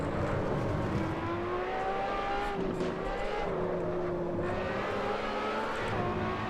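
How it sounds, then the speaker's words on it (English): Ferrari LaFerrari hypercar engine racing around Spa-Francorchamps in Assetto Corsa, a loud continuous high-pitched howl that rises and falls through gear changes, with faint tire noise and no talking. "Awesome sound, not just coming from the engine, but also your environment from the car itself"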